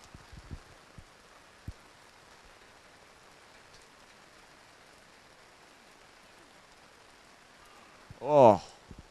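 Light rain patters steadily and softly outdoors at a putting competition, a faint continuous hiss with a few scattered drop taps, then a brief rising voice-like sound near the end.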